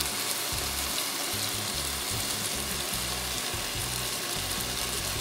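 Carrots frying in a pan for cabbage stew with pork, a steady dense sizzle and crackle running continuously at close range with no voices.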